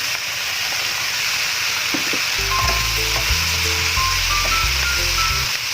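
Chop suey vegetables tipped into a hot pan hiss loudly, and the sizzle thickens into a steady fry with low stirring and scraping sounds close by. No one speaks.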